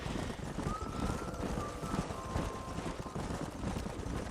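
Horse hooves clip-clopping in the video game Red Dead Redemption, a continuous patter of steps under a dense, noisy game soundscape with a faint tonal whine.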